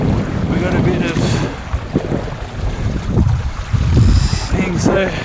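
A Hobie Cat 16 catamaran sails on open water, with the rush and slap of water against the hulls mixed with heavy wind buffeting on the microphone, loud and continuous.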